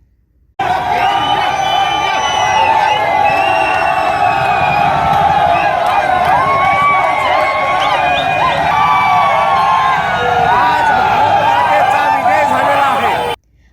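Dense street crowd of cricket fans in Amravati celebrating India's World Cup win with tricolour flags, fireworks and chants of India, a steady loud roar of cheering, whoops and shouting throughout.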